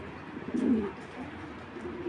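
A single soft, low coo comes from racing pigeons for sale in a loft, close by and brief, over faint background noise.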